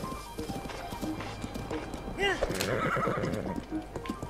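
A horse in Breath of the Wild whinnies with a rising, wavering cry mid-clip over steady hoof clip-clops, while someone talks throughout.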